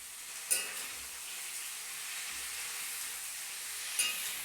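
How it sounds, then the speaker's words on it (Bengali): Kasuri methi hits hot oil in a pan, setting off a steady soft sizzle with two sharp crackling bursts, close and fairly quiet. "এই কসুরি মেথিটা তেলের মধ্যে দিয়ে দিচ্ছি"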